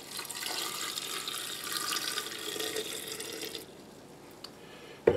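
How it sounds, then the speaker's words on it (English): Brine is poured into a jar packed with sourdough-fermented vegetables, a steady, close liquid rush for a few seconds. It then thins to a softer trickle and ends with a brief knock. "A little more brine."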